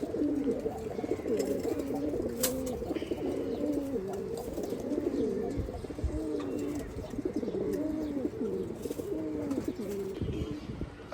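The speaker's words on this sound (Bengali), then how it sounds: "এখান থেকে কিছু কবুতর বের করে দেখাবো," A loft of Chila and Giribaj flying-line pigeons coos continuously, with overlapping throaty calls rolling in steady waves close by and no talking.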